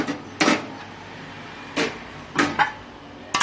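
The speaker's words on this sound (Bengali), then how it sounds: "এখানে চাপা দিয়ে দিলাম" A lid is set down on a cooking pot of spinach simmering in its own juices, giving a few short hard knocks and clatters, close and fairly loud, spaced out over a few seconds with quiet between them.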